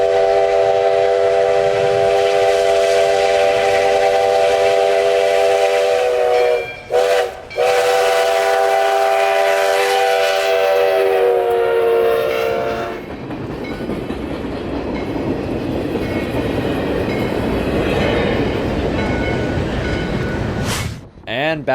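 A loud horn blares in sustained blasts over the rumble and clatter of a passing steam locomotive, number 148, then the horn drops away, leaving the rolling noise.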